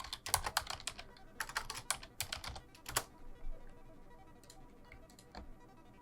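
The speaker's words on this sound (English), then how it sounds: "It helps me I can type it correctly." Rapid bursts of typing on a computer keyboard, clustered clicks in the first three seconds, then sparser, quieter keystrokes with no voices.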